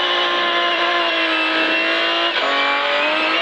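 BMW M3 rally car at a Black Rocket rally stage start, engine roaring loud and steady close by as it launches and accelerates hard, with a brief gear-change dip midway.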